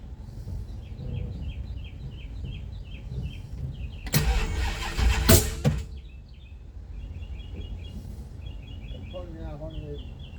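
A racecar engine cranks and fires up, a loud burst of starting and rough running for a couple of seconds amid outdoor ambience with birds, then settles back to a background idle.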